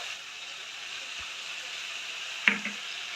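Spice paste for an egg cauliflower curry sizzles softly in a pan, giving a steady, faint hiss with a couple of brief clinks or stirs.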